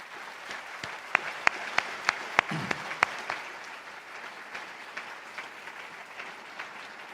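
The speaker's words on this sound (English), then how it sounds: "I think that you owe them all another big round of applause for supporting you." Graduation-ceremony applause for supporters at an engineering faculty convocation: a broad, moderately distant wash of crowd clapping, punctuated early on by a run of sharp, evenly spaced single claps close by, tapering gradually.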